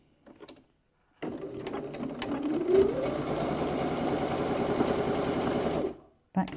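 A sewing machine back stitches along a cosmetic bag seam, running in one sustained close burst after a brief quiet start, then stopping near the end.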